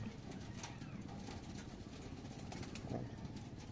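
Pigeons cooing softly in a loft, low repeated coos over a steady background murmur with occasional faint bird calls, no talking.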